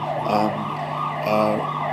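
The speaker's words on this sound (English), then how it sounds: "so it's got to be a police or an ambulance" A wailing siren rises and falls in two sweeping cycles, fairly close and loud, over a steady low hum.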